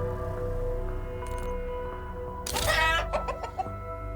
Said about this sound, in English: on the second menu you back out, it'll make a chicken sound